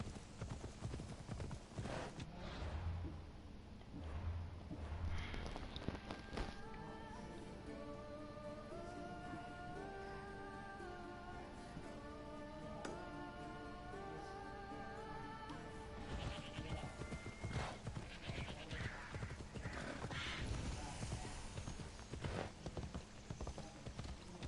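A horse's hooves clip-clop steadily with a neigh or whinny rising among them, close and clear, continuing for most of the stretch with no talk over it.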